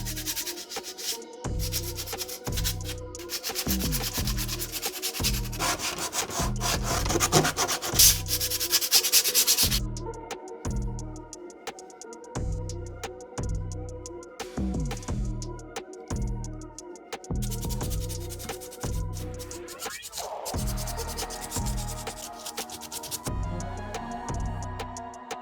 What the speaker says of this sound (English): Use fine grit sandpaper to lightly sand the surface